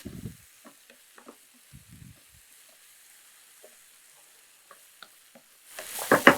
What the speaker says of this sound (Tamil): ஒரு 2லேருந்து 3 நிமிஷம் நல்லா அப்படியே வதக்கி எடுத்துக்கலாம்